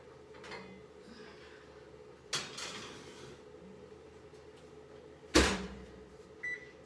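A pan for no-knead bread goes into an oven set to 450 degrees. Soft handling noise is followed by two sharp metallic knocks from the oven door and pan, and then a short electronic beep.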